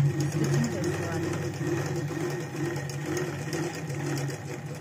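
A sewing machine stitches small pleats along the fabric of a baby's fancy skirt, whirring in a steady run at close range while someone talks over it.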